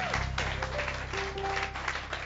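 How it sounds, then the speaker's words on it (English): A church congregation applauds, a continuous wash of many hands clapping with sustained musical tones and faint voices mixed in. "Let's give God a great applaud in this house."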